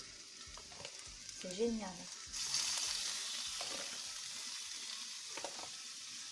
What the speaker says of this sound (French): J'adore entendre le bruit de la cuisson.